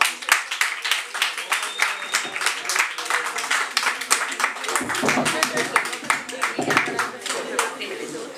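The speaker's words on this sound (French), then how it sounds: "Des applaudissements pour Cartouche." An audience applauding a slam poetry performer at a live micro-conference show, with a sustained burst of many hands clapping close by, fairly loud and dense.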